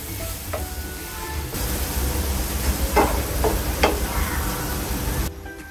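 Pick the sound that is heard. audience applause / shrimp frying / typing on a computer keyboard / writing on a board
shrimp frying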